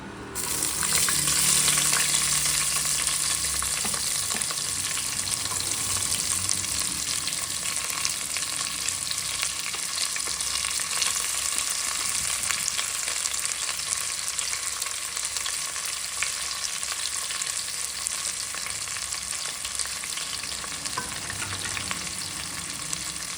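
Onions frying in oil for chicken biryani give a loud, continuous close-up sizzle that hisses evenly for over twenty seconds, with faint stirring scrapes and no voices.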